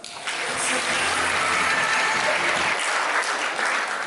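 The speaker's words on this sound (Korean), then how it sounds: "우리 신랑이 입장할 때 내빈 여러분께서 큰 축복의 박수를 보내주시면 감사하겠습니다" Wedding guests in a convention hall applaud as the groom makes his entrance, a loud, sustained burst of many hands clapping that starts abruptly and stays full for about four seconds.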